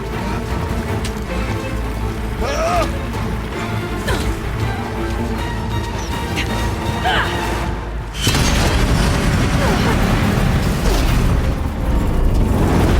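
Explosive ammunition detonating in the video game Horizon Zero Dawn, heavy booms and crashing blasts over dense mechanical machine noise, with a louder, rougher burst of sustained blast noise beginning about two-thirds through and holding to the end.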